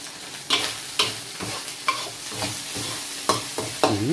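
Pieces of snakehead fish frying crisp in hot oil in a pan, a steady sizzle broken by repeated sharp scraping stirs at a close distance.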